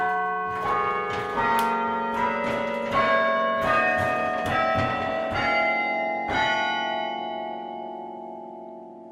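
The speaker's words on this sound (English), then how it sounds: "Those were the first bells of the Cornell Chimes." The first bells of the Cornell Chimes ring out in a sequence of loud, resonant strikes, each tone sustaining and overlapping the next before the final bell decays slowly into a long ringing tail.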